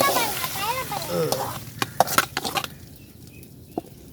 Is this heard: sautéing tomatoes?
yes